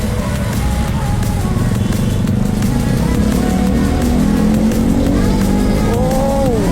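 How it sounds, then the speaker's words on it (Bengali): A motorcycle on a winter night outing roars steadily and loudly throughout, its engine pitch rising into a whine near the end. "ও এই একটা বাইক।"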